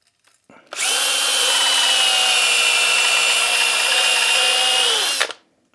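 A power drill fitted with a pipe-cleaning bit whirs steadily at high speed for about four and a half seconds, starting and stopping abruptly, loud and close.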